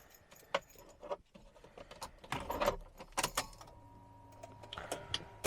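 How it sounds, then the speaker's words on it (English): Car keys jangling beside a Jaguar XJ40 with a flat battery, repeated metallic jingles and clicks in short bursts, close and fairly quiet, with small handling knocks between. "Just grab the keys, open the door."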